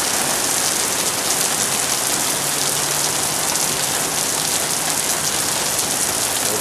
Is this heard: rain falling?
yes